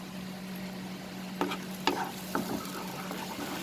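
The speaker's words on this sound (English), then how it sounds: "Saute this." Onion and green chili paste sauteing in a pan over raised flame for a malai egg dish, a soft continuous sizzle broken by a few scraping stirs of a spatula, close, no talk.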